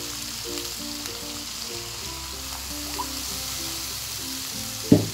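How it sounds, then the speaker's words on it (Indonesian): Petai and coconut milk being stirred in a frying pan for sambal goreng with potato and chicken liver and gizzard, a steady close sizzle with soft stirring scrapes and a louder clatter at the end. "Kita masukkan petenya. Kita aduk-aduk lagi. Dan santan kita masukkan."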